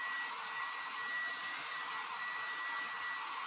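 Hair dryer fitted with a diffuser blows steadily on curly hair, an even whooshing rush with a faint high whine throughout, heard alone at moderate distance.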